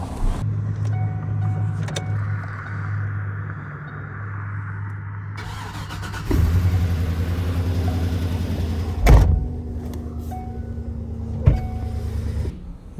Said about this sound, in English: Let's go ahead and warm up the truck and then we'll start heading over there.